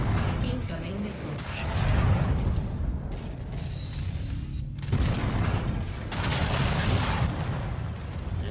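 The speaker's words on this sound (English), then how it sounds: "Incoming missile." Incoming missile explosions in the video game MechWarrior 5: Mercenaries hit as heavy booming rumbles over a continuous low battle roar, with a voice present alongside.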